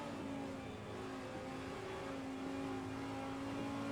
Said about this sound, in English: Hear the throttle there going around the corner as Connell's really delicate on the throttle